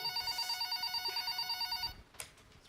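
A phone rings with a repeating electronic trill for about two seconds, then stops abruptly, followed by a brief clatter.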